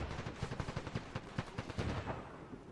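Rapid gunfire in the military shooter game Arma 3, a dense string of sharp cracks and thumps at a quick, uneven rhythm, slightly distant and unbroken throughout.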